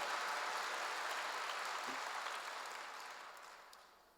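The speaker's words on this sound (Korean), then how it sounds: "박수 좀 세게 쳐요. 세게 쳐." A church congregation claps hard on the pastor's urging, a faint, distant mass of applause that slowly tapers off.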